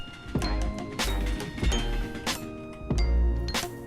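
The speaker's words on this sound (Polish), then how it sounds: "Mam jeszcze dzwoneczek do tego." Small bright bell chimes in the video game Hello Neighbor, several clear dings repeating at irregular intervals over a busy game soundscape.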